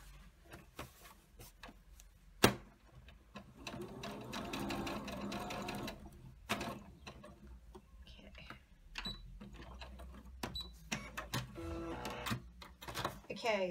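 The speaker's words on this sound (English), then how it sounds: "I have stitched a rectangle all the way around the outside of the teeth" A sewing machine stitching a rectangle around a zipper's teeth on a pillow case, running in slow bursts of rapid mechanical ticking with pauses between, while a person talks throughout.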